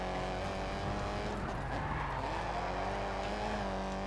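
A rally car in Colin McRae Dirt 2 skids through a corner on a tap of the handbrake, with a steady engine roar and tires scrubbing across the surface the whole time, close and loud with no talk.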